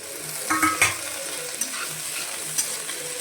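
Half-fried onions for fish curry fry with a gentle, steady sizzle, broken by a few clinks and scrapes of a spatula against the pan early on.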